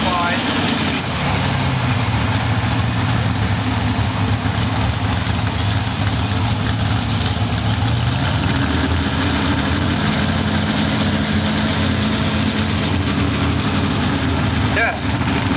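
A modified IH F30 pulling tractor idles at a tractor pull, a steady, loud low rumble that shifts pitch partway through, with crowd and announcer noise mixed in.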